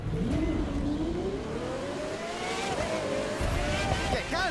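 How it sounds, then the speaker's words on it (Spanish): Pagani Zonda R in The Crew 2, its engine revving hard and climbing in pitch under acceleration, a loud, close, continuous howl with tire squeal and brief shifts near the end. "¡Que cante ese motor!"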